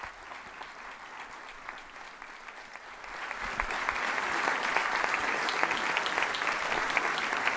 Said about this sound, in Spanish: todos los presentes lo reciben con un aplauso